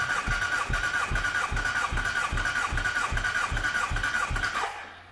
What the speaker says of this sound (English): Run the starter until that needle on that gauge stops.